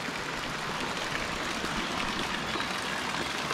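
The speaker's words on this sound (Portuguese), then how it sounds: "a água caindo, ainda um pouco suja" Water falls into fish tanks at a rural refuge, still a little dirty, making a steady, close rushing splash that holds an even level throughout, with no voices.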